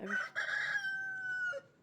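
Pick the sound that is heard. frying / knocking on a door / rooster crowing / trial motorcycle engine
rooster crowing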